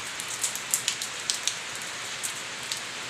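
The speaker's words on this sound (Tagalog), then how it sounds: "umulan na naman mga kadoys" Rain falls steadily outdoors with a soft constant patter, and scattered louder drops tap nearby surfaces at irregular intervals.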